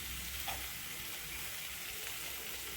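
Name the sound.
curry leaves and ginger frying in pan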